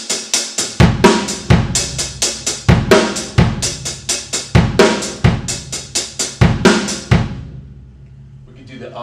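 Linear 5-3 drum pattern accented on the E of 2 and 4, a tight rapid run of hi-hat and drum strokes with recurring strong accents, close and loud, ending in a brief decay.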